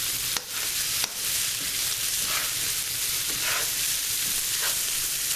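Chopped vegetables for a pot roast sizzle steadily in a hot pan, a continuous close frying hiss broken by a couple of sharp clicks and occasional stirring scrapes.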